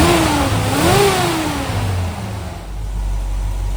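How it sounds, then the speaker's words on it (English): A 1970 GMC 2500 truck engine, just restarted after fuel pressure work, runs close by with a rough mid-pitched drone, briefly revving up and back before settling toward an idle. "Let's fire her back up and see what happens."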